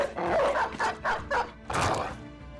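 A war dog in the Battle Brothers video game barks in a rapid series of about five close, loud barks, then a final longer yelp, with no talking.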